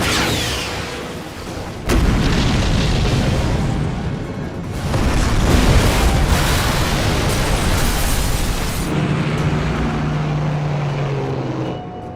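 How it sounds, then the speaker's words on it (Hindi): A bridge is blown up in a Hollywood action movie: a loud, sustained roar of blasts and rumbling debris that swells twice and stays dense throughout. "एक और ब्रिज उड़ाने जा रहा हूं।"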